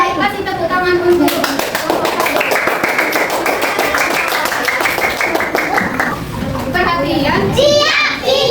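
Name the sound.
children clapping in classroom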